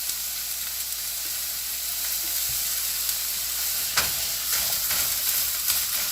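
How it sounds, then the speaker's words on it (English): Food fries in a hot pan with a steady broadband sizzle and crackle throughout, with a few louder pops and spits near the end and no talking. "The sizzle is called flavor."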